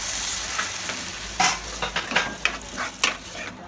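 Spinach puree sizzles in a pan with softened onions, a steady frying hiss broken by several sharp scrapes and clinks of a spoon stirring against the metal.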